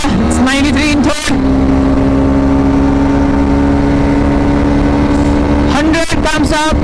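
Suzuki Gixxer 250 SF motorcycle engine holding a loud, steady drone up close, with sharp revving bursts and gear changes at the start and again near the end, under wind noise.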